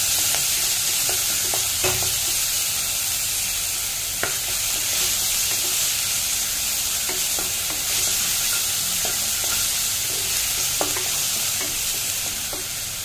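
Scooped-out pointed gourd insides fry in hot oil with a constant, fairly loud sizzle, broken by scattered clicks and scrapes of stirring.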